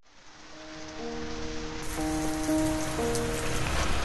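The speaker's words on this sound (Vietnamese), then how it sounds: "Hôm nay mưa lớn thật đấy" Heavy rain pours on a stormy night in an animated family story, a dense, rising hiss with gentle music tones playing beneath it.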